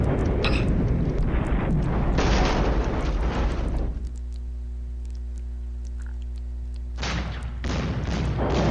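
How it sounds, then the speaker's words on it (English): Artillery shells slam into infantry in a multiplayer wargame battle at Norderfurt: dense, rumbling explosive bursts, a lull with a steady low drone, then another loud volley. "Brings more artillery onto my infantry."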